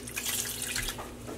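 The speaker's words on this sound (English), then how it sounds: "I am squeezing out the skeins and then putting them in some plain tap water." Mordanted yarn skeins are squeezed out and rinsed in plain tap water, with a faucet running steadily into a sink and water splashing up close, continuous and fairly loud, with no talking.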